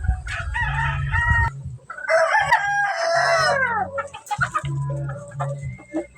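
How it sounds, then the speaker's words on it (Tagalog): A white Kelso rooster crows loudly and close by, a long wavering call, with shorter clucks and squawks before and after it. "ipakikita ko sa inyo yung nabili kong white kelso ni Biboy Enriquez."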